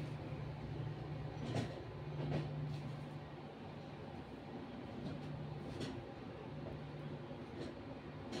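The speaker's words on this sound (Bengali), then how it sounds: "আমাদের ট্রেন এই যে এনজেপি স্টেশন থেকে ছেড়ে দিল" The 15777 Tourist Express pulls out of NJP station, heard from inside the coach as a low steady rumble with faint recurring clicks and squeals of wheels on rail.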